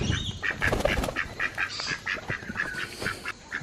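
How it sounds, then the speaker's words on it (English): Backyard ducks give a rapid run of nasal quacks and honks, repeated in quick succession at close range over faint outdoor background noise. "Look at these ducks, man."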